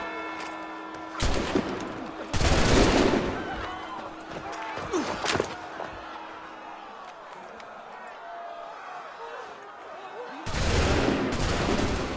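Soldiers firing a musket volley in Assassin's Creed III, several loud sharp bursts of gunfire in clusters separated by quieter stretches of ambient noise and shouting.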